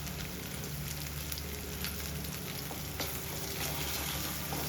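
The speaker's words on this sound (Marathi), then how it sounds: "असा मसाला भाजून घ्यायचा." Homemade masala with red chili powder and turmeric sizzles steadily in hot oil for egg curry, a dense close crackle with occasional stirring scrapes and no talk.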